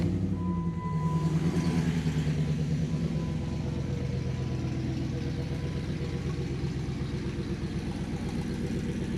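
A Jeep engine with a homemade exhaust runs at a steady, low rumbling idle, close and even throughout, with no talking.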